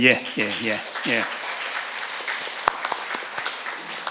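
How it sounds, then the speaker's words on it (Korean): A church audience at a pastor's book launch event gives a guest from America a round of applause, a steady wash of many hands clapping that starts under someone speaking and continues alone. "미국에서 오셔서 우리가 특별히 개별 박수를 보내드린 겁니다."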